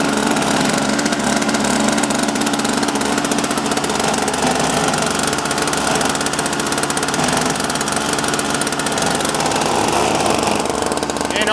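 A Toro Powerlite snowblower engine runs steadily at a constant loud, buzzy drone with a rattling vibration, close by, with no talking over it.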